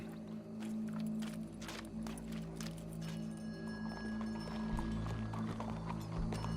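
Horse hooves clip-clop at a show with a crowd present, a steady run of soft irregular hoof knocks over a low background hum, fairly close and moderately loud throughout.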